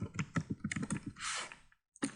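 Rapid keystrokes on a computer keyboard while entering a subject name in school management software, a close, even run of clicks for about a second before a brief burst of noise and a short pause.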